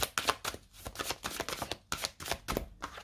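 Tarot cards being cut and shuffled, a run of quick papery riffles and soft slaps repeating close up with brief pauses, no voices.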